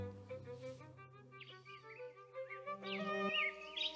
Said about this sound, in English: So now you can hear the bird singing.